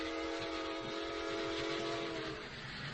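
Old-time radio sound effect of a train passing through a station, a sustained loud horn-like whistle tone over rumbling wheels, steady then easing slightly at the end, with no voices.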